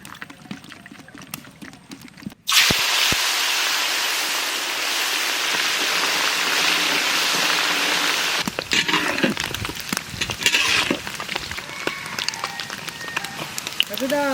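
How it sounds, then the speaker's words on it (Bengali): Prawns dropped into hot mustard oil burst into a loud, dense sizzle that holds steady for several seconds, then turns into crackling spatter while people talk over the frying. "এখন আমি চিংড়ি মাছ ভাজবো, তার জন্য সর্ষের তেল।"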